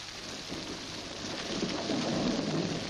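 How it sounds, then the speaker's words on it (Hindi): Steady rain falls in a rural Indian village, a dense continuous hiss that swells slightly louder toward the end, with no voices. "बारिश हो रही है और अभी लाश यहीं पड़ी है।"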